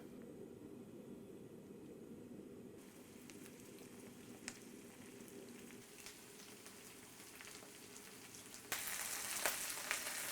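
Brussels sprouts browning in a hot pan give a faint, steady sizzle that carries on without a break and grows a little brighter near the end.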